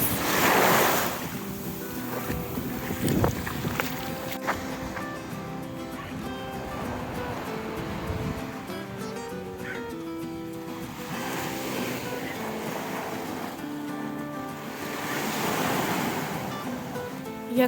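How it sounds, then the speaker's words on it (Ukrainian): Steady roar of Black Sea surf washing ashore at Odesa, with wind buffeting the microphone and faint swells of breaking waves rising and falling throughout. "Іти по цих хвилях."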